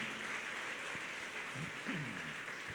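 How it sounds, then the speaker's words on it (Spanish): Congregation applauding in a church, a steady wash of clapping filling the room for a few seconds, with faint scattered voices underneath. "Denle un aplauso al Señor."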